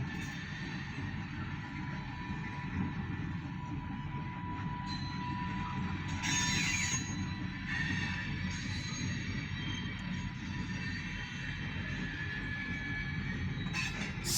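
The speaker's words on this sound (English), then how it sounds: "We have the same OC&T freight train coming, and this time they're heading to East Titusville." An OC&T one-engine freight train approaches toward East Titusville, Pennsylvania, a steady low rumble of rolling cars and engine with brief squeals of wheels rising midway and near the end.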